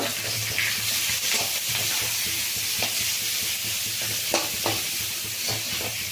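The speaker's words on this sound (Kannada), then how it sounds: "ಈರುಳ್ಳಿ ಹಾಕ್ತಾಯಿದ್ದೀನಿ ಈರುಳ್ಳಿ ಚೆಂದ ಫ್ರೈ ಆಗಬೇಕು" Onions sizzle and fry in a pan, giving a steady hiss with occasional stirring scrapes, alone and fairly close.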